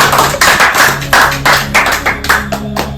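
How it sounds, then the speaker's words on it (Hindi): A studio audience on a quiz show set claps in a close, loud burst of hand strikes, bunched into uneven rhythmic pulses with a faint musical tone running underneath. "तालियां बजाइए"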